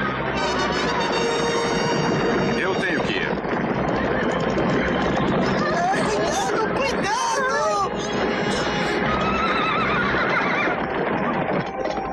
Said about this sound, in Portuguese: Eles estão vindo, centenas de cavalos!